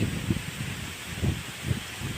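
Wind gusts across a rice field full of ripe paddy on a cloudy early morning during harvest, a constant breathy rush with low buffeting thumps against the microphone and faint rustling, with no voices.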